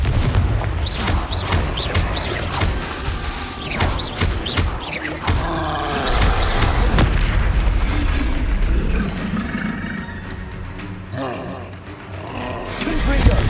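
Confringo explosive spells blast repeatedly in Hogwarts Legacy, loud booming impacts and roaring bursts layered with combat effects over a continuous rumble, while a player talks throughout.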